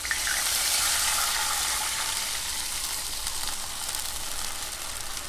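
Tomato puree cooking down in a pan for Kashmiri paneer chaman, sizzling and bubbling with a steady, close, broadband hiss throughout, and no voices.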